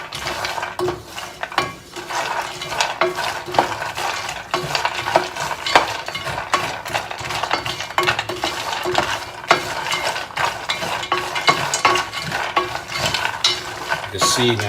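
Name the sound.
stirring roasted cashews in olive oil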